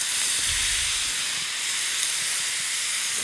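Sausage, onions and mushrooms sauté in a pan, giving a dense, steady sizzle and hiss that holds at an even level throughout, close and fairly loud with no talking.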